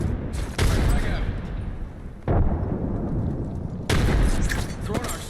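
Frag grenade blasts in the video game Apex Legends: three booming explosions at roughly even intervals, each a heavy burst with a rumbling tail, loud and close.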